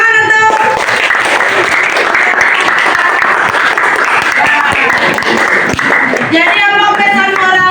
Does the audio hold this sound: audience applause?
yes